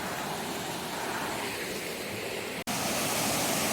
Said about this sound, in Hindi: This is water of the waterfall.